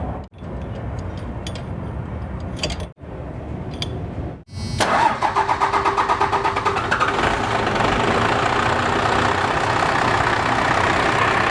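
An old Dodge left sitting in a field for over 12 years cranks in short bursts, then catches and runs with a rough, pulsing idle that holds steady and close.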